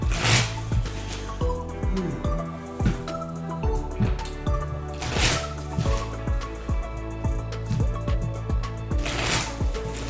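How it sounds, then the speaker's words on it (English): A deck of cards for the Hubworld Aidalon card game is shuffled in a few quick riffling bursts, spaced several seconds apart, close to the microphone over steady background music. "So I'll put these 3 cards on top of the deck and shuffle in a second"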